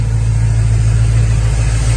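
A muscle car with dual exhaust and a 351 engine idles steadily and loudly nearby, a deep continuous rumble with no talk over it.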